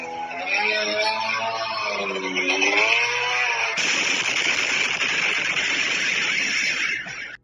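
A small engine of a Russian military drone buzzes loudly with a whining, wavering pitch, like a lawnmower, then turns into a rougher, noisier drone that cuts off abruptly.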